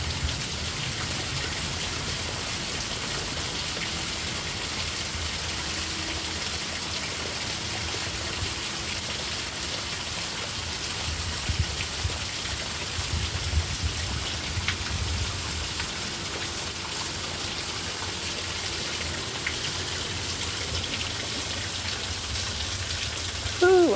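Heavy storm rain falls steadily in Merritt Island, a dense, even hiss of drops that holds at a constant loud level throughout with no breaks.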